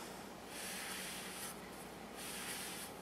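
Fabric rubbed steadily along the cutting blade of a soap planer to wipe off soap residue, a close, continuous soft scraping hiss that swells in strokes, with no voices.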